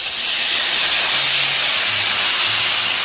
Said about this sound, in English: don't you love that sizzling sound?